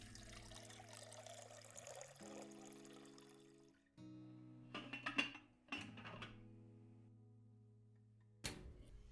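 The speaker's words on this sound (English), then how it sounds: "Let me get this all in the pot. Add some water, of course." Water pours into a cooking pot in a home kitchen with a quiet rushing stream at the start, then a few clinks and splashes, all set against steady soft tonal background music.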